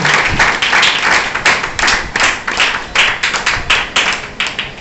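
A loud, dense round of audience applause fills a hall at a magazine's tenth anniversary award ceremony as a speaker is welcomed, many hands clapping close and strong throughout without pause.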